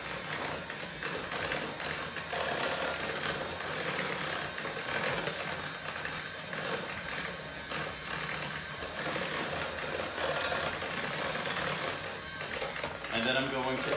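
An electric mixer whirs steadily through a sour cream batter flavoured with lemon zest for a Hungarian pastry, a dense, continuous mechanical buzz that holds level for the whole stretch.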